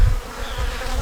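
A hive of honey bees in South Carolina gives off a close, continuous buzzing drone that holds steady for the whole second, with no voices over it.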